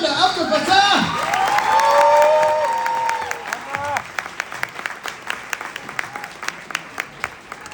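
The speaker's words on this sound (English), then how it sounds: "Would you please all give me a big round of applause for the one and only Randa Abdel Fattah!" An audience cheers, whoops and claps loudly for a speaker being introduced. Excited voices and shouts dominate the first few seconds, then give way to scattered individual claps that thin out and fade.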